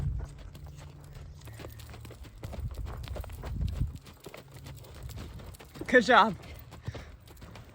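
A horse's hooves clip-clop at a steady walking pace on an arena rail while a rider is coached, with people talking over the hoofbeats.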